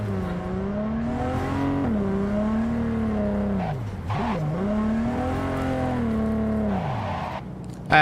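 Car engine in Cyberpunk 2077 running steadily throughout, its pitch rising and falling as the vehicle accelerates and eases off, with one sharp dip in the middle, loud and continuous with no talking.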